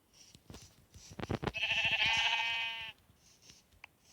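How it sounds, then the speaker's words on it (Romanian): Sheep bleating in the Minecraft video game: one sustained, wavering bleat stands out clearly in the middle, with quieter game sounds before and after. "Și o oiță."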